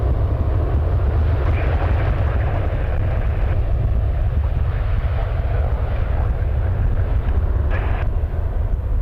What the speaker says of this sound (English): Takeoff, so it's going to start its roll already.